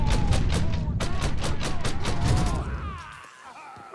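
Rapid gunfire in the 1930s gangster game Mafia, a steady string of evenly spaced loud shots over a rumbling low layer, thinning into scattered reports and clatter near the end; close and dense.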